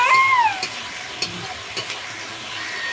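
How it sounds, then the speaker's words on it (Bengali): Chili, turmeric and cumin spices frying in a pan, a steady close sizzle with a few scraping stirs and a brief high squeaky tone near the start. "মশলাটা কষিয়ে নিচ্ছে"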